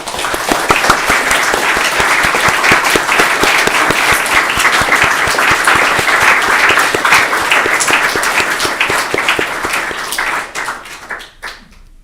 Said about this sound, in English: Let's just give a little round of applause to everybody who's contributed